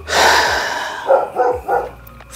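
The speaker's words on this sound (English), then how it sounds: "Seriously, it done nothing but bark its ass off." Neighbour's dog barking, a long first bark followed by three shorter ones in quick succession, loud and fairly close, with no speech.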